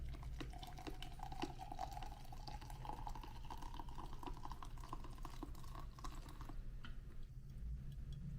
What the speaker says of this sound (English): we're pouring 255 grams of water in here